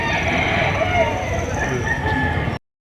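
Rooster crowing amid the bustle of a chicken market in Padre Garcia, Batangas, a steady, close, loud call running nearly three seconds, with clucking fowl and murmuring voices around it before it cuts off abruptly.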